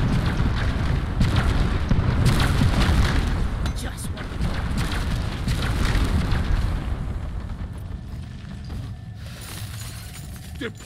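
A bomb goes off in a mining video game: a loud, shattering blast followed by a long rumbling roar that slowly fades.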